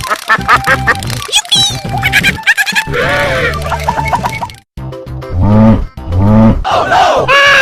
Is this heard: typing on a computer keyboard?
no